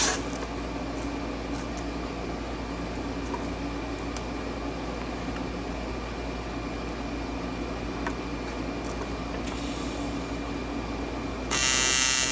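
TIG welding on a pitted aluminum frame with hot tungsten and filler wire, a steady close electric buzz and hiss with no speech.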